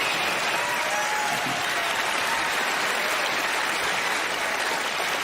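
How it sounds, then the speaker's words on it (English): A large studio audience on a magic competition show applauds loudly and continuously, a dense even wash of clapping with no pauses. "please give a warm round of applause for Mr. Terry Fader and Winston"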